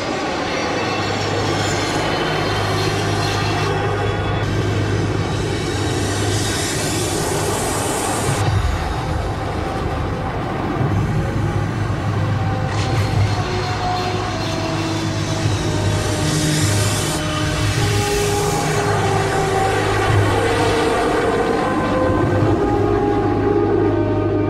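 Jet airliner engines roar steadily and loudly throughout as the plane takes off from the runway, a sustained broadband rumble with shifting whine and tonal hum, no voices.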